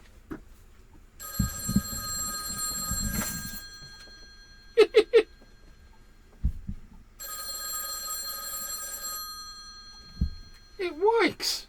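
A landline telephone rings in two long electric bell bursts separated by silence, with short clicks, tones and voices talking between the rings.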